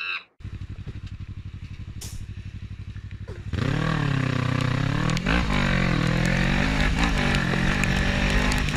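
A motorcycle engine buzzes at a steady, fairly low level, then abruptly opens up into a loud, rising roar, with a brief dip before revving hard again.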